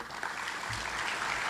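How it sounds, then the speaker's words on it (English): Audience at a conference on current and future conflicts gives a speaker a warm round of applause, a steady dense wash of clapping that holds for the whole stretch. "A warm applause to Mr. Alfred Turner."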